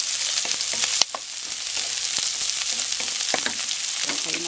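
Onion and garlic sizzle in hot oil in a pan while being sautéed for ginisang munggo, a steady frying hiss broken by sharp scrapes and stirring clicks of the utensil, close and without talk.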